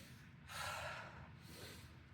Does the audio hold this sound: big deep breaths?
yes